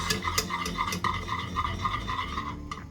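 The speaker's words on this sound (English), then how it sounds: "We're gonna mix this nicely." A utensil stirs homemade mayonnaise in a bowl for egg salad, producing a soft, rhythmic scraping and swishing with a few sharper clinks against the bowl, close and steady with no talking.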